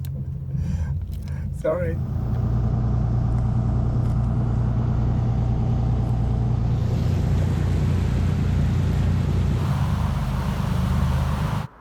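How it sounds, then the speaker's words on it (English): A big diesel engine aboard a boat at a small-town mooring on the route from Saint-Omer to Paris starts up after a brief spoken word, then runs as a loud, steady low rumble right to the end. "Okay, gonna start the big nasty diesel engine again."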